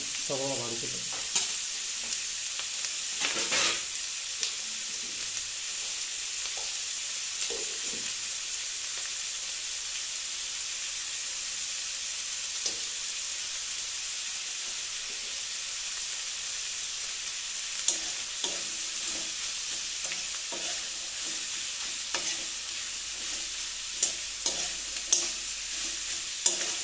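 Sliced onions sauté with salt in a pan for a chicken roast, giving a steady, close, even sizzle with occasional stirring scrapes and clicks throughout, no voices.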